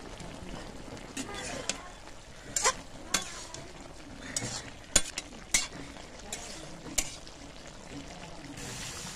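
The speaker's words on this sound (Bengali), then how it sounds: "এবার আমরা সবজিটাকে কিছুক্ষণ কষাবো।" Vegetables being stirred and sautéed in a thick gravy in a pan, a soft continuous sizzle broken by scraping spoon strokes and clinks against the pan at irregular intervals.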